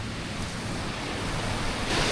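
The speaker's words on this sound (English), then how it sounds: "This is the river" A river flowing down from the Scottish Highlands below a waterfall gives a continuous broad rushing wash, close and fairly loud, with a touch of wind and no speech.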